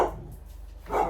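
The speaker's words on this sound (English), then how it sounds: "dog's going crazy." A dog barks twice nearby, with one sharp bark at the start and another about a second later and a quiet gap in between.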